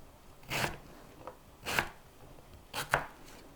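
A knife chops mango on a cutting board into big chunks, three crisp, separate chopping strokes at close range, with a softer tap between them and no talk.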